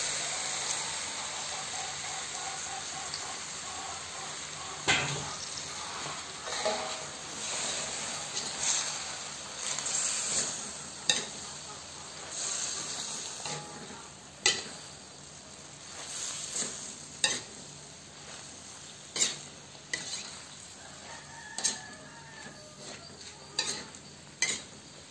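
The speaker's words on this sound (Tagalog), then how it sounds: "Gisayin lamang natin yan ng 2 minuto." Sliced cabbage and pork sautéing in a pan, a steady sizzle running throughout with occasional sharp clicks and scrapes of stirring at irregular intervals.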